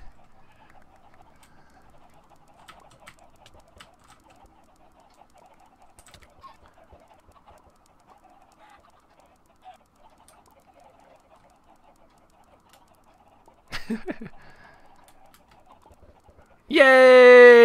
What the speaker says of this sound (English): Now he has so many chickens in the temple.